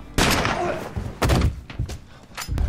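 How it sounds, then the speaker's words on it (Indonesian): Rifle gunfire in a tense horror film scene, several sharp loud shots at uneven intervals, each with a booming low tail, close and dominant. "Luke mencoba melakukan perlawanan dengan menembak beberapa penduduk menggunakan senapan yang didapat dari kabin."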